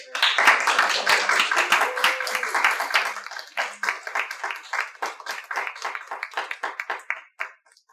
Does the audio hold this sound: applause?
yes